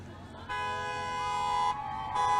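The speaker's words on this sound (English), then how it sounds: "honking their way into your part of the parade" Vehicles honk their horns during a University of Iowa homecoming parade, a steady loud tonal blare that starts sharply, cuts off briefly, then resumes.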